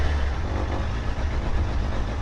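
Racing car powered by a GSXR 1000 K4 motorcycle engine, started cold and running, a steady loud close engine rumble with no voices.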